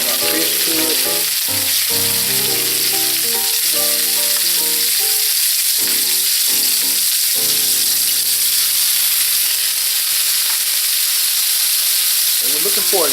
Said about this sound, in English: So we got a pan, hot pan. We're going to add our fish to it.